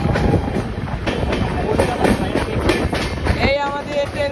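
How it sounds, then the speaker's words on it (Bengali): A Kolkata–Sairang Express train rolls steadily across the Farakka Barrage, its wheels giving a continuous near clatter and rumble with rhythmic clicks over the rails, without a break for the whole stretch. "এই আমাদের ট্রেন পার করছে"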